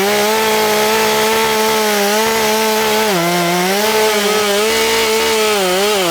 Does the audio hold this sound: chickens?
no